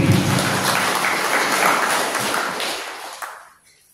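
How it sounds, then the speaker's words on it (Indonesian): A church congregation at a First Holy Communion Mass in Waipei, Lembata bursts into dense applause that holds steady, then fades out to near silence. "Tepuk tangan untuk umat YP."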